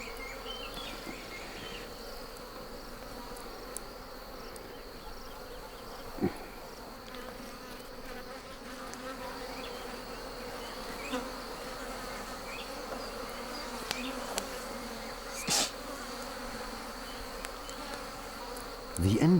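Wild bees swarm around a nest during a traditional honey hunt in Kenya, a steady dense buzzing drone holding throughout with a few brief louder knocks and rustles close by.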